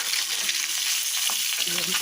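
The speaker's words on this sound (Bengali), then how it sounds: "আর এদিকে আমি যে মাছ ফ্রাই করছি ফ্রাই হয়ে এসেছে" Rohu fish sizzles and crackles in hot oil, a bright steady frying hiss with a few soft stirring clicks, close by.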